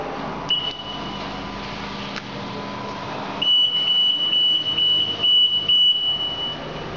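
A Rehoo needle detector's alarm sounds as a thin, steady high-pitched electronic tone, starting faintly and growing louder and more continuous partway through over a background hum.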